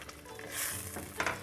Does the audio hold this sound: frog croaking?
no